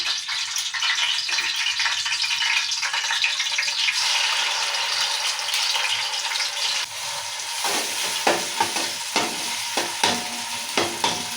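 Onion, tomato and green chillies sizzle steadily in hot oil in a pan, a loud continuous frying hiss, later broken by stirring scrapes and clinks of a spoon against the pan.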